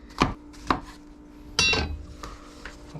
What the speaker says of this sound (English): now I'm actually going to pause chopping the veg